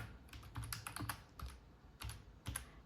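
A Wi-Fi password goes in on a computer keyboard in several close, crisp bursts of quick keystrokes, faint and without talk.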